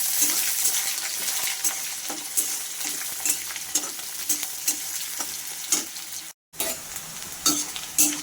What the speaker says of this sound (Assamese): পিঁয়াজখিনি অকণমান ভাজি ল'লোঁ এতিয়া